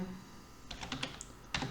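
Keys clack on a computer keyboard while a new name is entered into a cell in Microsoft Excel, a soft cluster of quick taps after a short pause, then one firmer keystroke, all quiet and close.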